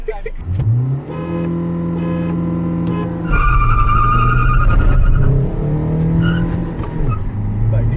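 A loud Hyundai Verna or Volkswagen Vento engine revs hard as tires spin and squeal during a drag race, rising in pitch, then shifting and roaring on close by.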